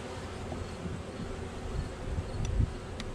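Honey bees buzz around an opened hive during an inspection, a steady close hum with a few louder passes near the end, and no talking.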